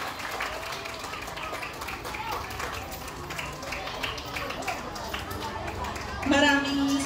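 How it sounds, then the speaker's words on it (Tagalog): Crowd applauding at an elementary school gathering, a steady mass of clapping and murmur throughout, with a voice rising near the end. "Palakpakan po natin si Ma'am."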